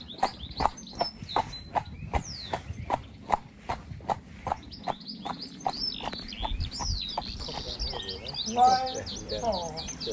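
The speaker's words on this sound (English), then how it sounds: "Nothing but the sound of birdsong, water, and the occasional cyclist saying good morning." Birds chirp and sing outdoors in the Peak District countryside, with bright calls over a regular clip-clop of hooves in the first half, then a denser chorus of birdsong. Voices can be heard in the background.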